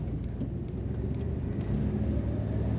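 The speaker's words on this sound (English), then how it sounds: "Just enough rumble to let you know it's a V8 under the hood of this car." A 1973 Dodge Charger 2-door hardtop with a V8 gives a low, steady engine rumble while driving, a moderate even drone with no talk over it.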